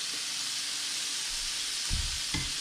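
Chopped cheese beef sizzles steadily on a bodega flat-top griddle, a loud, dense hiss throughout with a couple of brief scraping presses near the end and no talking.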